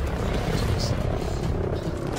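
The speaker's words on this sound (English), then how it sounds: "Another plane!" A propeller plane drones loudly overhead in a video game, a dense, continuous engine roar that holds steady throughout.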